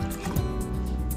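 Milk is poured into a blending jar as a short, steady liquid splash and gurgle, close up and fairly loud, with no talking.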